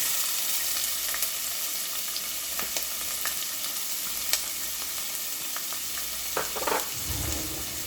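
Jalapenos and onions frying in olive oil in a pan give a steady low sizzle, with a few sharp clicks and clatters of utensils and a louder burst of frying near the end.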